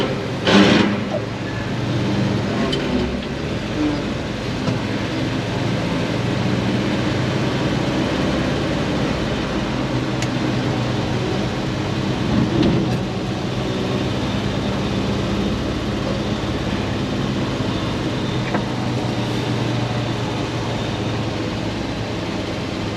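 A 1968 GMC C4500 dump truck with its vacuum pump pumping up, heard as a steady, loud mechanical rumble and hiss that continues unbroken with no talk.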